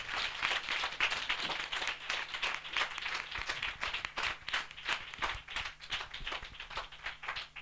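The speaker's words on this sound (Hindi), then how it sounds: "हम जोरदार तालियों से उनका स्वागत करें" A church congregation claps during a Hindi Christian service. The clapping comes in quick, fairly even strikes at a moderate distance and continues throughout at a soft level.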